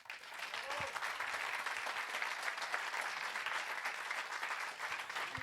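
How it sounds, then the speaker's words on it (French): An audience at a musical theatre show for Marilyn Le Musical breaks into sustained applause, a dense, even wash of many hands clapping that continues throughout. "Je vous demande d'applaudir Maude."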